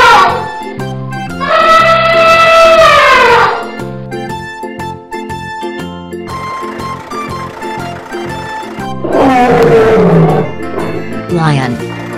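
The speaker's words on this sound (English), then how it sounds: "Lion. Lion." A lion roars twice in long rising and falling calls separated by several seconds, over a steady cheerful music bed in a children's animal-names clip.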